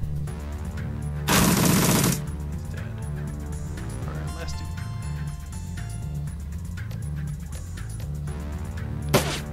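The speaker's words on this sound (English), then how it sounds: "Let's shoot a tracer bullet at this guy." Tracer bullet gunfire in Shadowrun: Dragonfall comes as a short, loud rattling burst early on and a brief sharp shot near the end, over steady, rhythmic game music.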